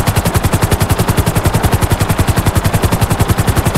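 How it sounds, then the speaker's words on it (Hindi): Police helicopter in the video game GTA 5, heard as loud, rapid, evenly spaced rotor thumps in a continuous driving rhythm throughout, with no voices. "पुलिस के हेलीकॉप्टर जो है दोस्तों नीचे ही नीचे हैं"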